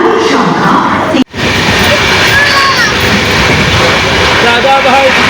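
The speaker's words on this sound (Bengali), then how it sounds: "এখন ট্রেনটা ছেড়ে দেবে" The Howrah–Radhikapur Kulik Express pulls away from a station platform with a steady, loud rolling rumble and faint wheel squeals. There is a brief dropout near the start, and voices murmur in the background.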